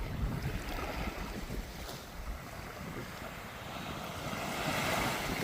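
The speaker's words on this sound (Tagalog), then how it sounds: "Very windy guys." Strong wind at a seaside fishing spot, a continuous rushing roar with buffeting gusts on the microphone, rising slightly toward the end, with no voices.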